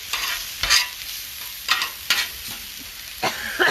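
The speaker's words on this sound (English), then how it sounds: "Stir them up." Seasoned vegetables with cumin and chili powder sizzle on an outdoor flat top griddle while a spatula scrapes and stirs them in several sharp, close bursts over a steady frying hiss.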